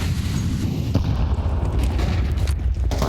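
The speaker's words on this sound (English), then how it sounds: "Flashbang high." A flashbang grenade detonates in Counter-Strike during a GamerLegion versus G2 match at IEM Dallas 2025, a dull boom buried in a dense, continuous wash of game noise with no clearly separate blast.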